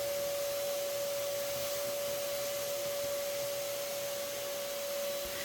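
A vacuum cleaner runs steadily and loudly at a window, sucking up yellow jackets, with a constant motor whine and no pauses.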